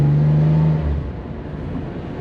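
A blue 1964 Chevrolet Corvair convertible, its engine freshly rebuilt, drives along with a steady motor hum. A brief tonal whine in the opening second fades as the car settles into an even, moderate cruise.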